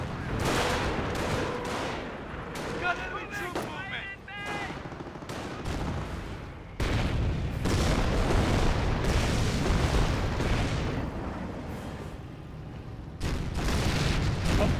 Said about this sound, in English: Landmine's been detonated, I believe.